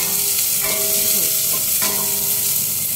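Onion sizzles steadily in a hot pan of olive oil, a constant close hiss with a few scraping stirs and no talking.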